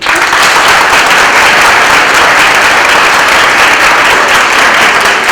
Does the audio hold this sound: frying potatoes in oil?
no